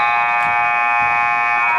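End-of-half buzzer at a junior varsity boys basketball game, one loud sustained electronic blare holding steady for about two seconds.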